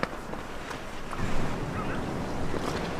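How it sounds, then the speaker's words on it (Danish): Wind blows hard outdoors, a steady rushing buffeting with low gusty rumble against the microphone, rising slightly midway, no voices. "Ej, hvor det blæser, hva'?"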